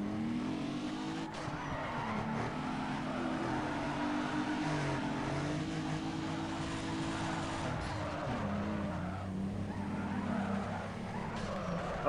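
A car engine drones and revs steadily in the Need for Speed Underground 2 racing game, with sustained harmonic whine shifting pitch at gear changes and tire skidding mixed in, loud and continuous throughout.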